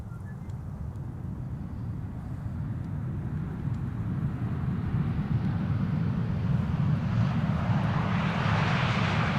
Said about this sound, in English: EasyJet arriving from Geneva up next.